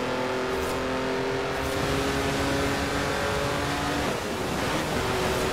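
A 2018 BMW i8 Roadster drifts in Forza Horizon 4, its engine holding a steady, loud whine with tyre hiss and a shifting tone toward the end, with no talking.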